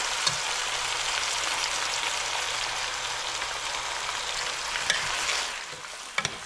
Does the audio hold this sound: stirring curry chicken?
yes